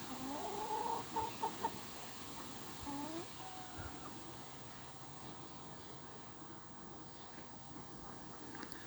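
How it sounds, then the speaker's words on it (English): Family chickens in a Canberra garden give a few soft clucks and calls early on, then settle into quiet, faint background ambience. "These are our family chickens"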